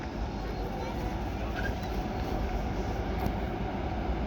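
A South Western Railway train of Class 455 type sits at Raynes Park station, a steady low rumble and hum filling the platform continuously at moderate level, with a brief faint squeal partway through.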